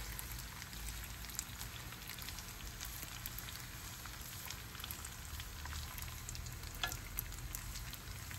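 Pasta fries in butter in a pan under low heat, giving a constant close sizzle with scattered crackles and the occasional tap of a stirring utensil. No voices are heard.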